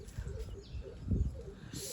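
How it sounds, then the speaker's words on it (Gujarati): White pigeons, with chicks nearby, coo in soft low repeated calls close by, over steady background hiss and a faint murmur. "વ્હાઈટ કબૂતર છે"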